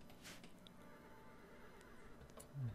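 Horses in the RimWorld game stay faint and distant under low background noise, then one brief whinny comes near the end.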